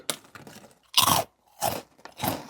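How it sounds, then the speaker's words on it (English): Crisp, loud crunching from someone biting and chewing a crunchy Korean snack, spicy version, in about four separate bursts with short pauses between them. "And as you might be able to hear, these are very crunchy."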